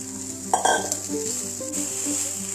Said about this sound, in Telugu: రైస్ వేసి మొత్తం బాగా మిక్స్ చేసుకోవాలి